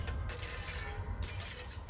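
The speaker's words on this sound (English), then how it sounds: "I want to reload my flamethrower" Flamethrower reloading in the sci-fi horror game Dead Space: a steady run of mechanical clicking, ratcheting and creaking over a low, constant rumble, close and moderately loud throughout.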